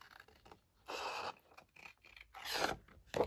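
Scissors cut through paper for junk journal jigsaw pieces, a few close, separate bursts of crisp snipping and rustling with short quiet gaps between them.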